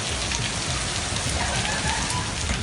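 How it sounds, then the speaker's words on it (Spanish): Torrential rain pours down in a dense, steady roar of drops hitting surfaces, loud and unbroken throughout. "las lluvias torrenciales provocaron fuertes inundaciones"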